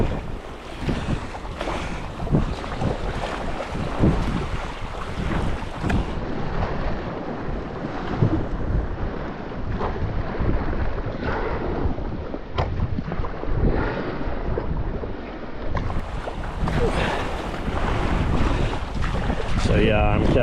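Strong wind buffets the microphone while choppy sea waves wash and slap around an Advanced Elements AirFusion inflatable kayak on open water, a loud continuous roar throughout.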